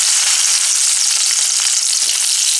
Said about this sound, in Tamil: கொஞ்சமாக வெண்டைக்காவை சேர்த்து இது நல்லா பொன்னிறமாக வர்ற வரைக்கும் வதக்கிக்கலாம்